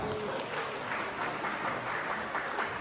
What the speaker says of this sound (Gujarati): તમારા માટે તાળીઓ જોરદાર